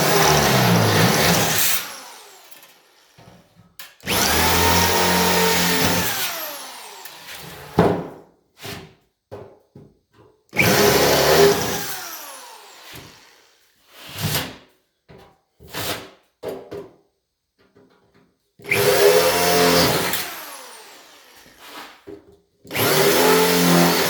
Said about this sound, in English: I'm going to pre-drill these holes here for installing.